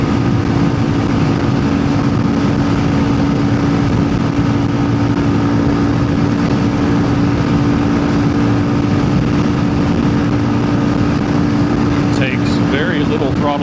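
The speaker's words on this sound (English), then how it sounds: "Very little throttle input, and it's actually accelerating up the hill." A Honda CRF300L Rally motorcycle climbing a hill on light throttle: a loud, continuous engine drone under heavy wind rush, steady throughout.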